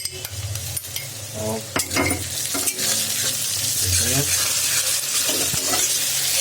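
Crushed green chili, garlic and ginger hit browning onions in a hot pan for chole rajma, a loud continuous sizzle with scraping stirs of a spoon against the pan and a brief spoken word.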